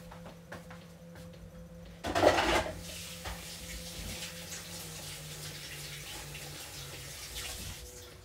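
Tap water runs steadily into a sink while hands are washed, a brief louder splash near the start, then a continuous moderate flow in a quiet kitchen during cake baking.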